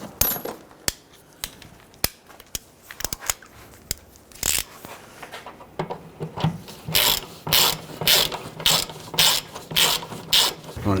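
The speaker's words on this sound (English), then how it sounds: "we're going to use our socket and we're just going to thread it in a few more threads to secure it into place." A socket ratchet threads in a rear upper control arm bolt on a 1999-2004 Jeep Grand Cherokee, starting with scattered sharp clicks and then settling into a steady rhythm of repeated ratcheting strokes, close and clear.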